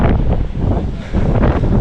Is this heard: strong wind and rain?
yes